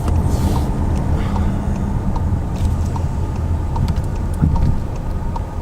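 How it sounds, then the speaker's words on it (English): A 2018 VW Atlas S with a 2.0L turbo engine pulling hard under full throttle, a steady loud drone of engine and road rumble heard from inside the cabin, with no talk. "I'm just mashing the gas and feeling the thrust of that 2 liter"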